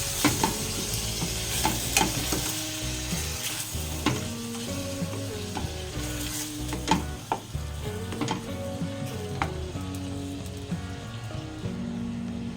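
Squid for adobo sautés in a pan, a continuous sizzle broken by repeated scraping and clacking of a utensil stirring, close and moderately loud over about twelve seconds, with no voices.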